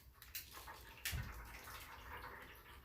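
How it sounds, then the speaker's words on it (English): Pork juices draining off a wrapped cooked pork into a pan, a soft steady trickle and splash of liquid with a brief louder pour midway, quiet and close with no talking. "I'm going to just drain the juices off into my bucket or into my pan."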